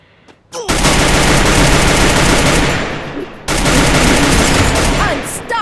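Free Fire video game machine-gun fire rattles in two long, loud bursts with a brief break between them and a few sharp metallic pings.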